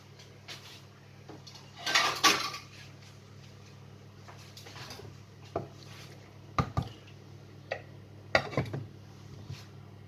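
A lid goes onto a pot of Safed Gosht stew: several scattered metallic clanks and knocks, one louder cluster early and sharper taps later, over a quiet, humming kitchen.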